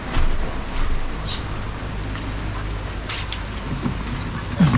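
Heavy overnight rain pours steadily as a dense broadband hiss, with occasional louder drips and gusts close by.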